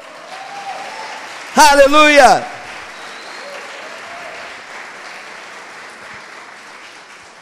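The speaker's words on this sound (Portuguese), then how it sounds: "você pode aplaudir o Senhor?" A church congregation claps steadily at a moderate level for several seconds while a preacher briefly shouts over the applause.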